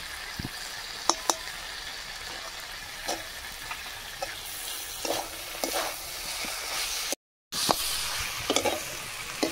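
Vegetarian papaya curry sizzling in a pan as ghee goes in, a continuous close fry hiss with intermittent ladle scrapes and taps and a brief dropout partway through, with no voices.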